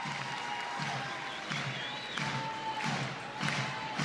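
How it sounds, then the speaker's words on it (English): A crowd at a women's professional softball game in Portland applauds and claps in a steady, moderately loud wash, with rhythmic swells and faint whistle-like tones through the background. "And the crowd also giving her some support."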